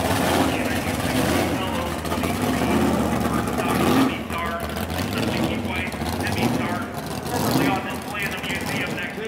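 A vintage race car at an auction, raced since 1968, idles and runs with a throaty engine rumble under a crowd, with talk and revving swells throughout.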